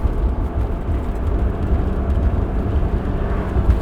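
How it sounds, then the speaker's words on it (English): Steady low rumble of a train rolling by overhead, heavy and continuous, mixed with the engine drone of a 230 hp V6-swapped Mazda Miata. "Oh, we got a train going over."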